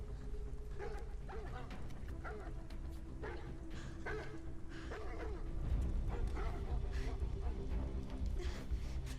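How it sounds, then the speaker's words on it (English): A dog in a video game barks and yips in short bursts, then whimpers, over a dense, rumbling game soundtrack that swells louder midway; a faint voice is buried in the mix. "Did they not hear the dog scuffle?"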